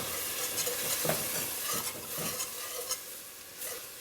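Whisk stirring half and half into a sizzling flour and butter roux in a pot for she-crab soup, steady frying hiss with repeated scraping whisk strokes, close and fairly quiet.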